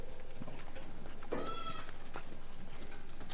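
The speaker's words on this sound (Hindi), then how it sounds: "कितनी बड़ी फ्रेम की बकरी है ना सौरभ" A Sojat goat on a farm in Pipar, Rajasthan gives a single short bleat, moderately near, over steady background noise and faint farm sounds.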